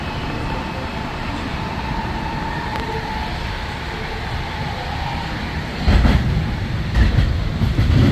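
The JFK Airport AirTrain rides between terminals toward Federal Circle, a steady interior rumble of wheels and motor hum with faint rattles, growing louder and rougher near the end, no speech heard.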